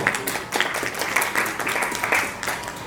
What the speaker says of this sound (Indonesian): Kita kasih aplaus untuk regu C dalam menyelesaikan soalnya